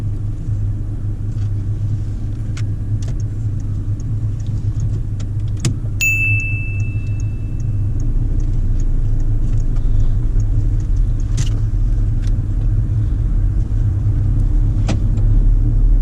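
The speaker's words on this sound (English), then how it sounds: "you can drive away when it's safe to do so" A car starts up and pulls away during a mock driving test, a steady low engine rumble filling the cabin throughout, with a few small clicks and a brief high tone partway through.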